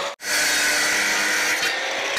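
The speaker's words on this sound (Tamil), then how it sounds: "இப்போ இதே அளவுக்கு நம்ம ஸ்கொயர் டியூப் அளந்து ரெண்டு பீஸ் வந்து கட் பண்ணி எடுத்துப்போம்" Square metal tube being cut for a DIY floating bike boat build, a steady loud abrasive grinding-saw hiss that runs continuously after a brief gap at the start.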